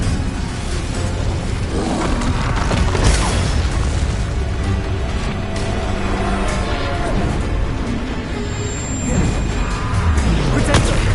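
Incendio fire spell cast in Hogwarts Legacy, loud booming bursts and crackling impacts amid continuous busy game combat effects, with a voice shouting over the action.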